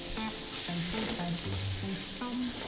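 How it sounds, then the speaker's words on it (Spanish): Mushrooms fry in smoked bacon fat, making a close, even sizzle that holds steady throughout. Faint melodic notes play softly underneath. "Okay, vamos a echar nuestros champiñones."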